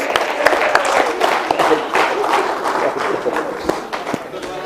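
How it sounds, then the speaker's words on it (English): An audience at a motivational speaking event claps in a loose, uneven round of applause with sharp individual claps standing out, while voices murmur and talk underneath. "Let's give a big round of applause."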